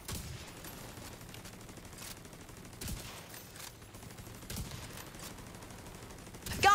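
Rapid gunfire in The Division 2 during a co-op mission, with steady bursts over continuous game noise and a few sharper shots standing out.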